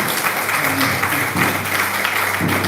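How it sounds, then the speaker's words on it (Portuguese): A church congregation applauds together, a dense, steady wash of clapping that fills the whole stretch at moderate loudness, with a faint tonal hum underneath. "Vamos aplaudir Jesus pela vida da nossa visita"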